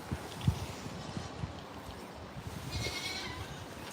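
Goats around a farm shed give faint, scattered bleats over a quiet outdoor hum. One clearer call rises near the end.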